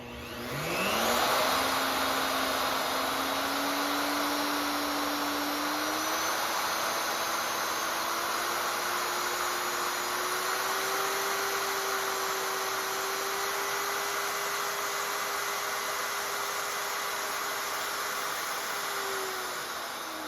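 Skil and Ryobi plunge routers running on their first speed setting: a loud, steady electric motor whine that spins up quickly, then holds an even drone for about twenty seconds with no talk.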